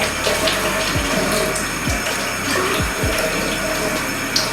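Water pours steadily for a few seconds as it is measured out to mix with Barbicide disinfectant, with a few low knocks and thumps from the container under the continuous running stream.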